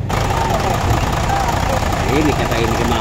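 An Isuzu 6HH1 Forward turbo diesel truck engine runs steadily at idle with a low rumbling drone, while people talk nearby over it.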